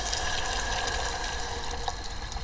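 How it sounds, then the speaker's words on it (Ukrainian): Water poured into a camp pot of fried pearl barley outdoors, a steady close trickle and splash running continuously without pause. "Ну що ж, моя зажарочка готова. Заливаю я водичку."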